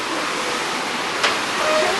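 A waterfall in the Karkonosze mountains near Szklarska Poręba roars as a loud, steady, close wash of rushing water that fills the whole stretch with no clear voices.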